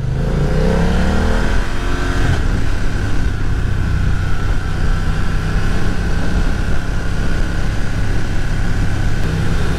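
A 2020 BMW F900R Sport Style roadster motorcycle engine revs hard and accelerates, pitch climbing through the gears, loud and close with steady wind rush throughout.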